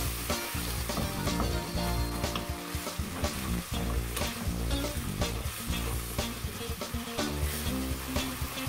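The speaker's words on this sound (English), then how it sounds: "and just give it a stir" Tomato from a tin stirred into a sizzling pot for Congolese oxtail stew, a steady loud fry-hiss with repeated scraping knocks of the spoon against the pot throughout.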